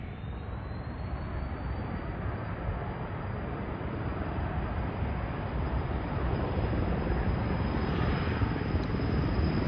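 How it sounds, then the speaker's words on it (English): A medevac helicopter passes at a distance, a steady broadband rumble and whoosh that holds level and swells slightly toward the end, with no voices. "here comes a medevac helicopter"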